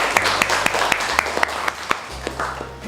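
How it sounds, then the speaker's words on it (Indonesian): Brief applause from university students in a classroom, scattered claps at a moderate level over a steady background hum, fairly close and without talk. "Beri tepuk tangan, teman-teman."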